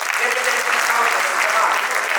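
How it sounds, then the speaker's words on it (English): An audience at a national debate and awards ceremony applauds the debate runners-up team, a loud, dense and sustained wash of clapping from many hands with no gaps. "I give you a round of applause for them, please."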